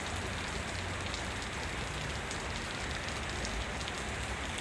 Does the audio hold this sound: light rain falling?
yes